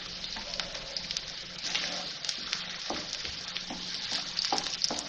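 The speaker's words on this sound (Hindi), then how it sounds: "इसको बस सॉफ्ट करना है प्याज को।" Chopped small onion frying in about four tablespoons of oil in a pan, a steady close sizzle with occasional stir scrapes throughout, no talking.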